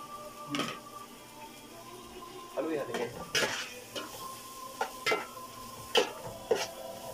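Onion and ginger sautéing in a hot pan, with repeated metallic clanks and scrapes of a spatula against the pan at irregular intervals over a faint sizzle.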